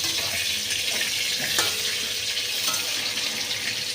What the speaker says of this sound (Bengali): আবারও আমি এটাকে খুব ভালো করে হালকা করে ভেজে নেব।